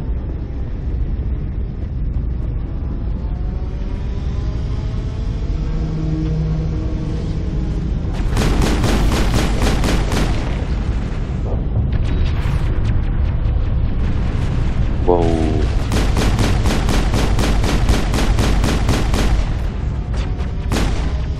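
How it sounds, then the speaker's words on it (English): Cannons fire in the PC game Mass Effect, with rapid bursts of sharp broadband blasts in two long volleys over a loud, steady low rumble. There are tonal sweeps between the volleys and no speech. "Well, actually there are three of those nasty cannons."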